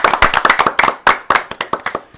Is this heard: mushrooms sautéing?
no